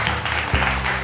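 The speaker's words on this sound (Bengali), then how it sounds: "হাততালি হয়ে যাচ্ছে টিমের জন্য" Applause for a team on a family game show, a dense wash of clapping from an audience, steady and loud over a brief moment with musical tones beneath.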